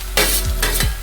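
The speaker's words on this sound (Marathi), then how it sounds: "मग त्याला फ्राय करून घ्यायचे." A spoon scrapes and stirs ground fresh-corn paste frying in a pan for corn upma, with loud close sizzling and two distinct stirring strokes.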